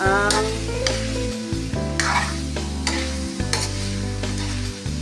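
Mung beans (monggo) with vegetables sauté in a pan for ginisang monggo, with steady close sizzling and repeated scraping strokes of a stirring utensil.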